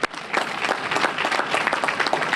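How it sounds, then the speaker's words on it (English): A conference workshop audience claps steadily and loudly, dense applause filling the space without a break. "let's give them a round of applause"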